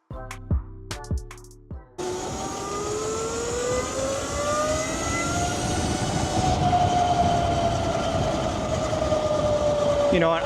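A 72V Ultimate SX500 electric street bike rides on the road, starting with a few clunks, then a rising whine from the motor over loud wind and road rumble, steady and close.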